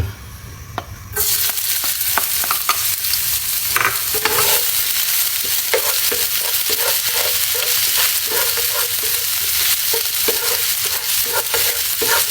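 Ginger sautéing in hot oil for coconut-milk adobo, a sudden loud sizzle starting after a quiet second and continuing steadily, with frequent spatula scrapes and clicks against the pan.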